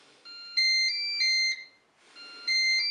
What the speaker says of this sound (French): J'allume mon Cookéo.